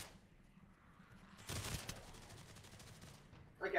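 Rapid automatic gunfire from Uzis in a zombie video game, a burst of dense shots that swells and then tapers into continued scattered firing, with a sharp loud blast near the end.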